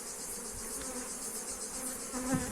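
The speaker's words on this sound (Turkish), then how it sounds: "Bu arı aralıksız şekilde 4 Mart'tan beri polen topluyor arkadaşlar" A honeybee collecting pollen hums in a steady, close buzz that holds for the whole moment, faint but clear, with no talking.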